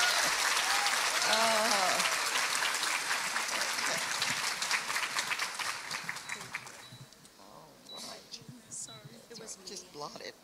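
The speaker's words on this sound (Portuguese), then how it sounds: "Eu quero que vocês recebam ela com um aplauso bem lindo." Audience applause at a church family-week women's event, loud broadband clapping that fades over about seven seconds while a voice talks over it and continues into near quiet.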